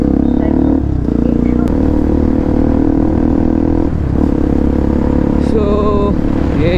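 A Bajaj NS 200 motorcycle fitted with an Akrapovic exhaust roars loudly up close, a sustained droning engine note with brief dips and a rising rev near the end.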